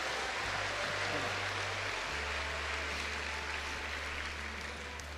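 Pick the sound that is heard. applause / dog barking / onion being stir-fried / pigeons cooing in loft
applause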